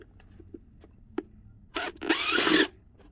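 A drill bores an eye hole in a tooth mask: a few faint taps, then short bursts of close, whirring cutting, the last and loudest lasting under a second.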